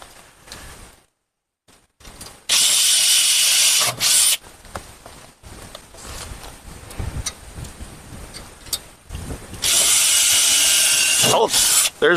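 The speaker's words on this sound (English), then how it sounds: "So I'm gonna drill a few right up the top here." A power drill bores into double wall sheathing during a solar panel install, loud whirring bursts of a few seconds each separated by quieter handling noise and brief speech.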